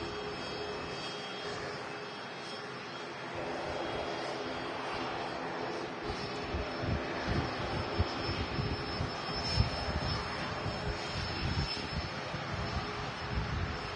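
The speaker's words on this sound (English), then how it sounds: "Ryanair touching down." A Ryanair Boeing 737-800 jet airliner touches down at Manchester Airport, its steady distant engine roar rising and growing rougher midway as it rolls along the runway, with no speech.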